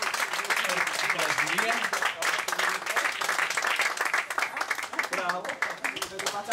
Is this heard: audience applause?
yes